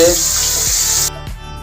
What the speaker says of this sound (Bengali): মাছ ভাজা ধরিয়ে দিলাম বন্ধুরা, দেখুন মাছ ভাজা হচ্ছে।